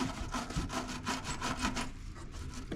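Rust being scraped off a riding mower's ground wire connection: steady, rhythmic rasping strokes, close and fairly loud, with no voices.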